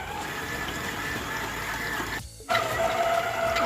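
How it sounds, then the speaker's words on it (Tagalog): A dough mixing machine kneads soft pandesal bread dough with a steady mechanical whir and rumble, close and continuous, briefly dipping before resuming, with no talk. "So, paikot muna natin to sa machine."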